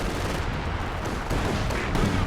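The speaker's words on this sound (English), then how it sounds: "this artillery cover, is it going to take down both these tanks?" Dense artillery and gunfire in the real-time strategy game Company of Heroes 2, a continuous loud rumbling barrage with overlapping blasts and no clear gaps.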